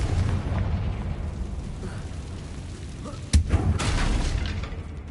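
A Confringo blasting curse goes off in Hogwarts Legacy, one sharp booming explosion rising out of a loud, rumbling game soundscape, followed by a rushing burst of debris-like noise.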